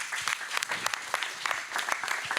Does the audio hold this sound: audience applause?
yes